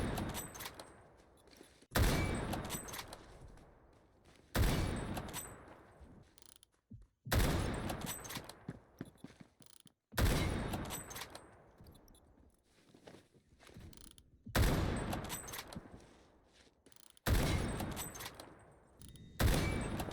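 Gunfire in the Phantom Forces shooter game: seven loud bursts of shots, roughly every two and a half seconds, each trailing off into mechanical clicks and reload clatter before the next volley, with no talking.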